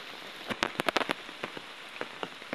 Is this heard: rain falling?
yes